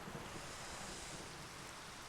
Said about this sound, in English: Thunderstorms freak me out.